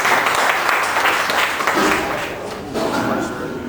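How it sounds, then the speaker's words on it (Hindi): Applause from the audience at a district-level community gathering greets a speaker, a loud, dense wash of clapping that fades slightly midway and swells again. "जोरदार तालियों से इस्तकबाल कीजिए"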